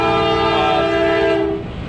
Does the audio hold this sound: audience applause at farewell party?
no